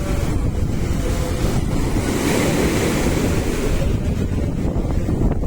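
Sea waves at sunrise at Kanyakumari, the southern tip of the Indian peninsula: loud continuous surf roar with wind buffeting the microphone, steady throughout with no pauses.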